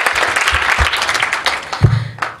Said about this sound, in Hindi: तुम लोग हाथ उठा के ताली बजा सकते हो